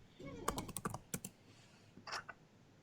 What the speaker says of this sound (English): Is somebody typing something?